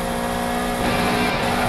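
An engine roars in a police car racing video game on a mega ramp, revving steadily with a rising, harsher surge partway through and no speech over it.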